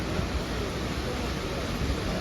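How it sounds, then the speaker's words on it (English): Waterfall near Neuschwanstein Castle in Bavaria: a steady, loud broadband rush of falling water, constant and unbroken throughout, with no voices. "Even there's a waterfall."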